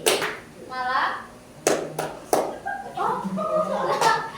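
Students in a classroom clapping game: a few sharp, distinct claps ring out in quick succession, separated by a teacher's and children's voices giving instructions and responding.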